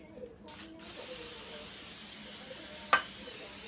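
Butter cooking spray hisses steadily into a loaf pan for banana bread, a close, continuous aerosol spray with one sharp tap near the end.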